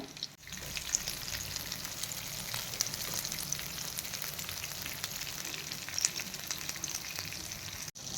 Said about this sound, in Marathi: मीडियम गॅसवरच आपण त्याला छानपैकी शेक हे शेकून घेऊया